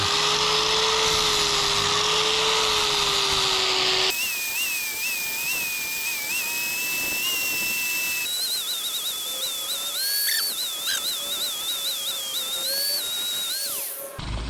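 An angle grinder flattening the blade of a small fishing-boat propeller. It gives a loud, shifting high whine that changes pitch across several passes, with no voices.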